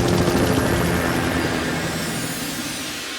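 Police helicopter from the Yorkshire air support unit roars overhead during a car chase, a loud, steady rotor-and-engine wash that fills the whole clip and fades slightly toward the end.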